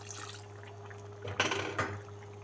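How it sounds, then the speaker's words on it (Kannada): A cup of water poured into a pan of simmering chicken gravy, a brief liquid splash and rush with a second short burst, heard close over a steady background hum. "ಈಗ ನಾನು 1 ಕಪ್ಪು ನೀರು ಹಾಕೋಣ."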